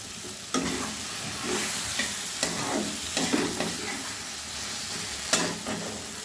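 Tomato chutney with dates and mango leather cooks in a pan, sizzling steadily under repeated scraping stirs of a spoon, close and moderately loud.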